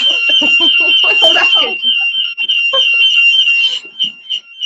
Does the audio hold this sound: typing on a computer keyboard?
no